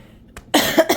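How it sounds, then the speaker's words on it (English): A single harsh cough bursts out close by after a moment of near silence, followed by a short second exhalation. "Every time I cough,"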